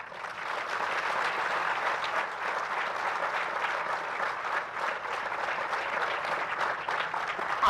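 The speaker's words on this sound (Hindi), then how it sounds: "पंडाल ताली बजाएगा।" Audience applauding together under a large pavilion tent at a family gathering, a dense, steady wash of clapping that holds at an even level throughout with no talk over it.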